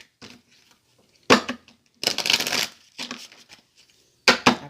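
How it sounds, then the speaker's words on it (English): Tarot cards being shuffled by hand in loud, close bursts of riffling and slapping, several separate shuffles with short pauses between, no talking. "I pre-shuffled those other cards"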